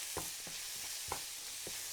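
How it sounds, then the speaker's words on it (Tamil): Quiet sizzling in a pan with a few soft scraping stirs of a spoon, spaced irregularly. "தக்காளியும் போட்டு அதையும் வதக்கலாம்"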